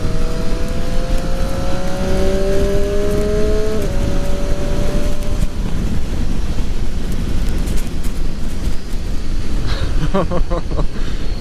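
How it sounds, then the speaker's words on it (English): A 2018 Triumph Street Triple RS motorcycle climbs in pitch, with quick breaks between rising notes as the quick shifter upshifts, under heavy wind noise; the engine fades into roar. "the noise that a quick shifter makes"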